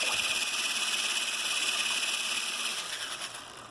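A food processor pulses dry brioche dough ingredients, a loud whirring, grinding motor run at steady intensity for about three seconds before tapering off, with no talk.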